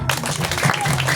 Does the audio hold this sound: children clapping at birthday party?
yes